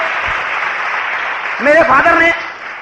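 An audience claps for a speaker's parents in a steady wash of applause. Midway a voice speaks briefly over it, and the clapping then thins out.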